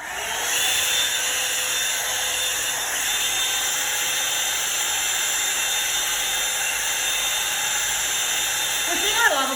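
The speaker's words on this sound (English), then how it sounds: "turning the hairdryer on." Hair dryer blowing continuously during at-home hair styling with a volumising hot brush, a steady loud airy whine with a thin high tone on top, holding level throughout, ending in a brief rustle.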